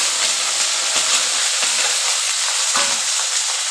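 Bitter gourd and potatoes frying in a pan for a chorchori, a dense continuous hissing sizzle close up with faint stirring scrapes throughout.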